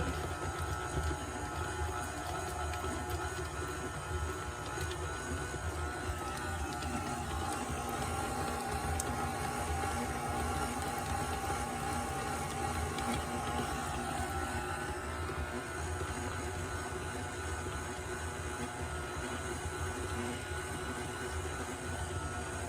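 Butter being creamed for Christmas cookies by an electric mixer on low speed, a steady continuous whirring drone that holds level throughout with no talking.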